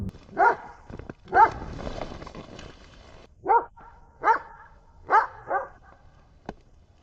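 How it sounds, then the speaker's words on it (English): A single dog barks in a forest at night, giving about six sharp, separate barks spaced a second or so apart. The barking rings out clearly against a quiet background. "Then he starts barking."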